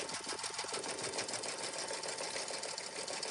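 A domestic embroidery machine stitching a patch runs as a steady, fast mechanical whir with rapid needle chatter, even and unbroken throughout, fairly close and with no talk.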